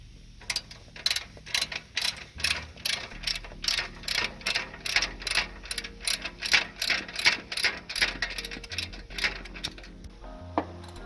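A ratchet turns a 10mm socket on a turbo bolt of a Subaru EJ25 engine, giving a steady run of close, crisp clicks in even bursts for about eleven seconds with no talk.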